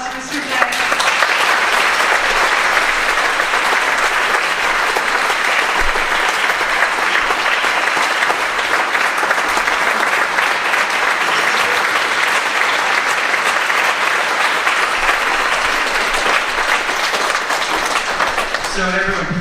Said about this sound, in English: we'd just like to give a big round of applause to Mr. J.